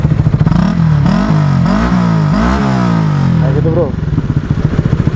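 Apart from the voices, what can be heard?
motorcycle exhaust revving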